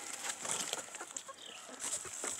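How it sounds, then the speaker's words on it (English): Backyard chickens, hens and roosters, clucking softly in their coop, with scattered faint calls and a high background hiss that keeps the scene quiet and close. "Oh, hello, beautiful chickens."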